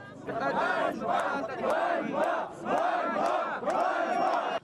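An angry crowd shouts around a traffic police car after an accident, many voices roaring together in loud repeated surges with brief dips between them.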